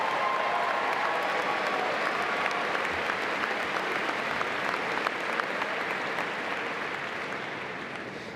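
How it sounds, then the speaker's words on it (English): A large crowd of new students at Colorado State University's welcome event applauds steadily and loudly for over eight seconds, a dense wash of clapping that fades slightly toward the end. "Give yourselves a round of applause for that."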